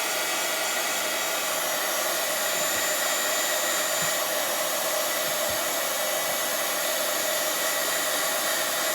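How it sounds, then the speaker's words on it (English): A heat gun blows on a primitive rustic wooden angel, a close, loud, unbroken roaring whoosh that holds steady throughout. "I'm going to hit this a little bit with the heat gun"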